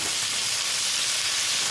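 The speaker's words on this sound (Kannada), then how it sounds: "ಇವಾಗ ಫ್ರೈ ಆಗಿದೆ. ಈರುಳ್ಳಿ ಹಾಕೋತಾ ಇದ್ದೀನಿ." Chopped onions frying in a pan for a lentil broth, a dense even hiss of sizzling oil throughout, close and steady with no voices.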